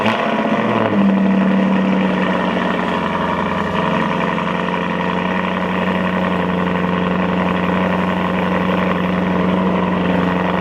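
A Maserati engine cold-starts on a cool day, catching with a brief flare before settling into a steady, loud, close idle with a strong low hum that drones on unchanged.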